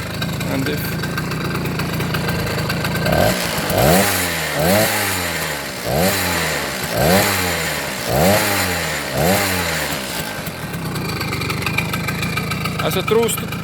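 An old two-stroke Riga 26 MINI moped revved about seven times in quick succession, each blip rising and falling sharply over a steady idle, close and loud, before settling back to idle.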